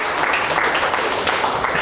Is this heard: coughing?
no